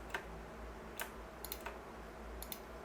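Quiet, crisp mouse clicks from modeling work in Inventor 2022 software come in a sparse, irregular series of about six clicks, some in quick pairs, over a faint background hum.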